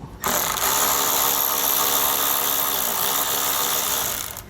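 A power tool spins continuously as it backs out a T27 Torx screw from the front fascia area of a 2022 Jeep Cherokee, a loud, steady whirring drone close up throughout with no talking.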